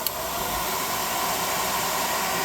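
A blow dryer running on freshly painted miniatures, a steady close rushing hiss of air that holds evenly throughout with no talk.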